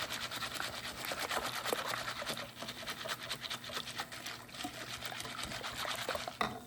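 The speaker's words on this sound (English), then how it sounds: "I'm just whisking this together." Cold tap water from a fridge dispenser being whisked into a mixture for Instant Pot red beans, giving a steady wet sloshing and clinking close by, alone without talk.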